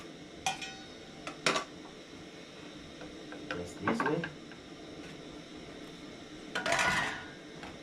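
A cooking pot and utensils being washed in a home kitchen: sparse metallic clinks and clatters, a few sharp knocks and a longer scraping rattle near the end, over a quiet steady background, with a brief spoken remark.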